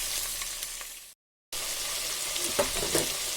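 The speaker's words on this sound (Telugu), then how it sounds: "ఇవంతా కొంచెం ఫ్రై అవ్వాలి" Carrot, onion, tomato, potato, chilli and curry leaves fry in a pan for a biryani, a steady close sizzle broken by a brief gap of silence, with a few stirring clinks afterward.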